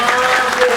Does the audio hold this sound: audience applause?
yes